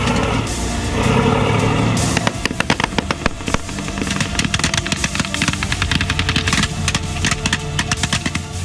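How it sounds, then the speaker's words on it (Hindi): Sustained bursts of automatic gunfire and sharp single shots crack at a Syrian front line where Syrian army troops return fire against ISIS fighters, loud and close, after a brief stretch of rumbling engine-like noise. "सामने से ISIS के आतंकवादियों की गोलीबारी हो रही थी और इस तरफ से सीरिया की सेना"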